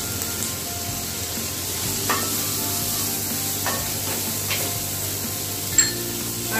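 Chopped tomato drops into a hot frying pan and is stirred, giving a steady loud sizzle and hiss with periodic scraping strokes of the spatula and a sharp clack near the end.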